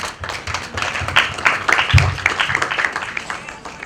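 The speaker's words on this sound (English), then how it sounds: "they deserve a big round of applause" An audience claps steadily, a dense patter of many hands with a few louder claps and some voices mixed in.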